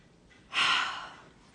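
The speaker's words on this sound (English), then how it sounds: "And deep breath in." A single deep inhaled breath, close and fairly loud, swelling briefly then trailing off into quiet.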